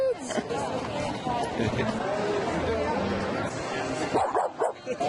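Dogs bark and yip among a crowd during a parade at a San Francisco Giants baseball game against Arizona, mixed into steady crowd chatter with broadcast commentary talking over it.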